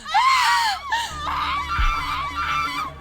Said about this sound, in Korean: 아름 씨와 다정 씨는 비명을 질렀어요